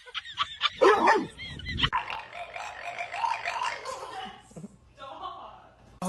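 A pet dog makes an odd, short, yelping bark-like noise close by, mixed with laughter and chatter from people nearby.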